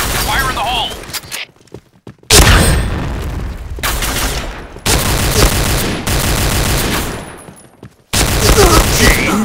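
Grenade blast and bursts of gunfire in the shooter game Project Blackout, loud chopped bursts of shots and booms separated by short silences, with game voice announcements between them.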